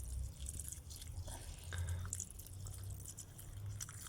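Water trickling and dripping as a potted Montezuma cypress pre-bonsai in a dry unglazed clay pot is watered, a soft continuous pour with scattered drips, faint and close.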